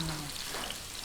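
Garlic sautéing in hot oil at the start of a Filipino Ilocano igado, giving a brief, steady, close sizzling hiss.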